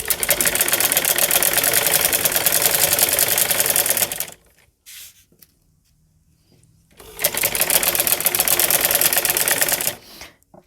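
Sewing machine stitching a round embroidered neckline binding, a loud close whirring run that stops for a few seconds of near silence, then runs again and halts.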